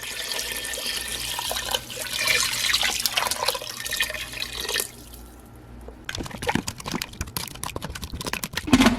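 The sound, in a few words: water being poured into pot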